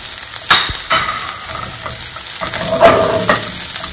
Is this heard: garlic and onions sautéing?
yes